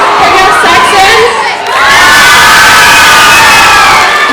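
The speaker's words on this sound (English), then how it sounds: "Can you have Vikings showing their house spirit by yelling or cheering up?" A school house team of students at a school talent show yells and cheers loudly as a crowd, a sustained wall of shouting and whooping from many young voices that briefly dips and then swells again.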